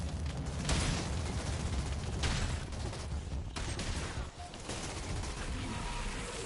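Dense gunfire from enemies in the shooter game Outriders, with a sustained loud fusillade of overlapping shots and bursts that runs continuously through the clip with no talk.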